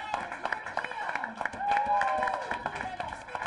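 Scattered applause and clapping from a theater audience at a play reading, with crowd noise and some voices mixed in, fairly close and lively.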